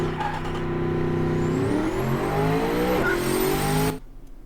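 A large 2017 AMW Tiger car in the Automation game laps a test track, its engine roaring steadily and climbing through gears with a brief shift dip, loud and close, then cutting off abruptly near the end.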